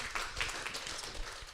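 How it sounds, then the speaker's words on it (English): Audience applause following a round of EdTech startup pitches at a prize competition, a steady dense wash of clapping at moderate level for its whole length. "Big hand of applause."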